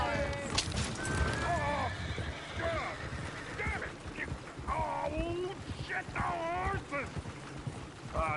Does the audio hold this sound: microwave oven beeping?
no